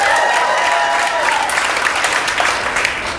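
Comedy show audience breaking into applause in response to a question, a loud sustained crowd clap that starts immediately, overlaps a brief trailing vocal tone early on, then thins gradually.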